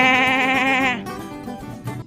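A goat on a goat farm bleats loudly and close by in one long, wavering call, followed by quieter rustling and a few faint murmurs.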